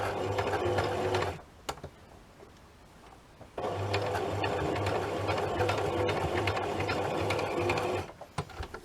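A sewing machine stitches paper pages into a junk journal in two close, steady bursts of rapid needle chatter, separated by a few seconds of quiet handling, then stops.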